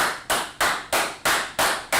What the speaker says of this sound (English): Clap it up in class